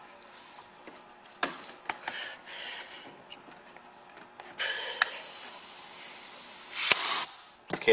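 Compressed air hisses from a hose that has popped off a Lego pneumatic engine, a soft steady rush rising partway through amid small clicks and handling noises.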